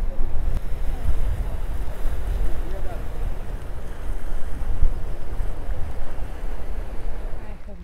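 Sea waves wash onto a beach in Antalya as a steady, broad roar, with strong wind rumble across the microphone and no distinct breaking rhythm. The sound is loud and continuous.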